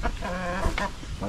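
Large two-month-old chickens with reddish feathers cluck in a steady run of close, throaty calls over a low background murmur.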